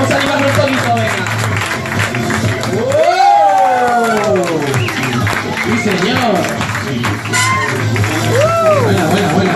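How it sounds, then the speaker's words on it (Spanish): Audience applause and cheering at a bike trial exhibition for rider Adrián, a crowd clapping loudly under an announcer's shouting voice, with a brief shout from the crowd. "estos aplausos para Adrián"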